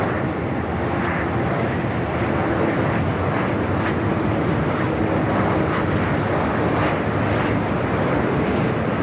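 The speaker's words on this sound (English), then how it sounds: "Sun Country 737-800 heading up for a north side takeoff." A Sun Country Boeing 737-800 takes off from the north side at LAX with a loud, steady jet engine roar that holds at full power throughout and drowns out everything else.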